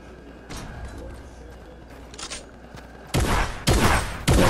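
Gunfire in a Fortnite-style video game: a few fainter shots early on, then three loud, close bursts in quick succession near the end.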